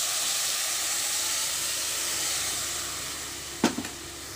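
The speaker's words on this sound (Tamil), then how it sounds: "இந்த டைமில் அரைச்சி வச்ச மசாலா ஊற்றிக்கலாம்." Ground masala paste poured into a hot pan of oil with popped mustard and fenugreek seeds and curry leaves, cooking for a banana-and-fish roast curry, gives a steady broad sizzling hiss, then a couple of brief sharp crackles near the end.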